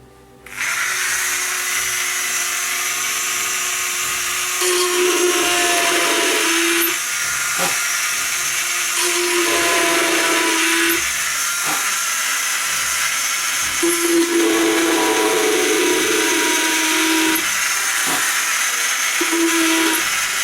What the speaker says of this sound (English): that's a few more drilled.